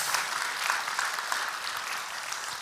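A church congregation at a Sunday service applauds with steady, dense clapping that fills the room evenly for a few seconds, without talk.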